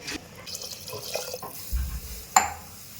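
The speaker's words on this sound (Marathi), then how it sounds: "आपल्याला दोन ग्लास पाणी टाकायचं आहे त्यामध्ये" Two glasses of water poured into a spiced Maharashtrian masala rice mixture in a pot, a short liquid splash and gurgle, close up, ending with a sharp splashy pour.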